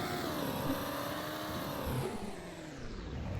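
V8 Toyota Tacoma engine in the Roblox game Greenville, a steady simulated engine drone that rises and falls over a few seconds, heard alone without talk.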